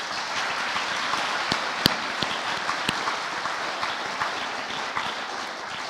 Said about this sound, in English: So a round of applause for all those who performed for us today.